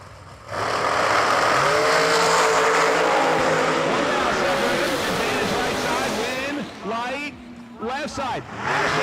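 A supercharged blown dragster and another race car roar at a drag strip, loud sustained engine howl launching and pulling away, followed by choppy revving bursts near the end, with announcer talk over it.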